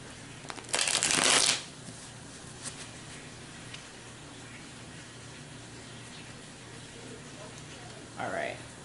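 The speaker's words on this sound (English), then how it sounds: "I feel like I need to shuffle it one more time." A deck of playing cards is shuffled in one quick riffle burst near the start, loud and close, with a brief rustle later and a short voice at the end.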